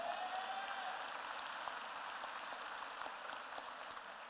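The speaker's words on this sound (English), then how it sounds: "You can clap, that's okay. Bring it on. I like applause." Commencement audience in a large hall applauding a speaker, a steady, distant wash of many hands clapping with no talk over it.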